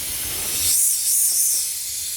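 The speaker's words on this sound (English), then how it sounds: "you could already hear air leaking out" Air hisses steadily out of a leaking intake coupler where the intake meets the turbo on an SR20 engine during a smoke test, a close continuous bright hiss swelling slightly midway.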